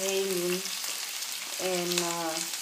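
Green and red bell peppers fry in a pan, heard as a steady soft sizzle under a voice that speaks in two short bursts.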